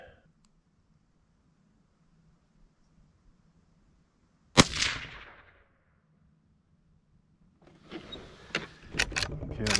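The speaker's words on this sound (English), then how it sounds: "we are shooting at the bottom right target" A Henry Classic lever action .22 Magnum rifle fired at a target, one sharp loud report after a quiet stretch, then a burst of clattering clicks and sharp mechanical snaps near the end.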